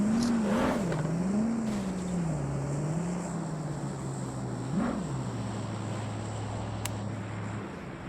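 An airplane in PUBG Mobile gives off a steady, droning engine hum that wavers slightly in pitch and holds for several seconds at moderate loudness under game noise.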